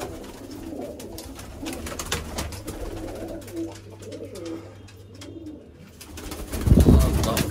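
Pigeons coo over and over inside a loft where squabs and nesting birds sit, the soft throaty calls layered close by, with a low steady hum underneath and a louder rustle or flutter near the end.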